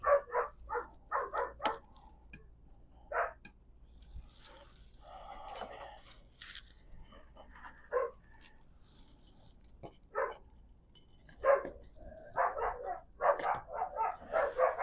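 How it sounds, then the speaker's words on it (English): Dogs bark excitedly in repeated bursts, some quick runs of yips and barks, at moderate distance, with scattered quieter sounds between. "my dogs are going nuts"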